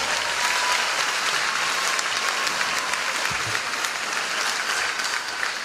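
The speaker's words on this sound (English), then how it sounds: "a round of applause for this amazing Blue Devil community" Loud, sustained applause from a large audience at the Ellenville high school Class of 2023 commencement ceremony, a dense steady wash of clapping for the whole stretch.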